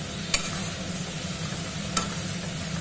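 Spice paste for loitta fish curry sizzles steadily in a pan, a close crackling hiss broken by two sharp scrapes of stirring, with no voices.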